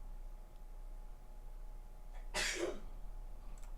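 A single sharp sneeze bursts out once, close and sudden, against a quiet background hum.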